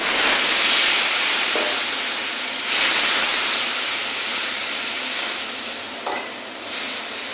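A turmeric-and-salt spice paste fries steadily in a pan, giving a dense, continuous sizzle with occasional scraping stirs, loud and close, with no talking.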